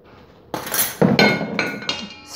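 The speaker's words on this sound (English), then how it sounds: "Stir that up a wee bit." A mixture stirred in a bowl with a utensil, giving a few sharp clinks and scrapes against the bowl in an uneven rhythm, close and fairly loud.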